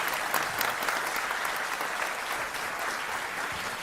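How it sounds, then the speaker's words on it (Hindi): An audience claps warmly to welcome a speaker at the Satya Sanatan conclave, a dense, steady burst of applause filling the room without pause for a few seconds. "जोरदार तालियों से स्वागत करें"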